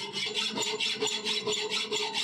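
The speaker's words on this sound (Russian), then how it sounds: "Будем пилить ручной пилой." Hand hacksaw cutting steel channel indoors in an apartment, a steady rhythmic back-and-forth rasp, close and continuous, with each stroke following the last at an even pace.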